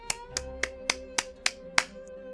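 One pair of hands claps slowly, seven sharp, evenly spaced claps ringing out clearly and close, with no voices.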